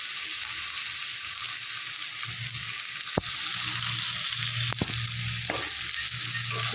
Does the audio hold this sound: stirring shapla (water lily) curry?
yes